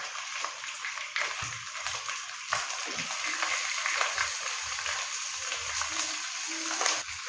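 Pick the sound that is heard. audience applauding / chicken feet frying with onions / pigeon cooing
chicken feet frying with onions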